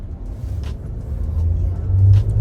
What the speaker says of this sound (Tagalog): Tingnan mo, naka-SUV tayo pero para tayong nakasakay sa kotse. Ang ganda ng ride.